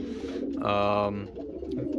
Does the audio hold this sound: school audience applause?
no